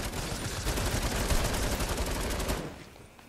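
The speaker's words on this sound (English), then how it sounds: "Where am I getting shot from?" Dense, continuous automatic gunfire from a video game crackles loudly and rapidly for a few seconds before tapering off abruptly into quieter ambience.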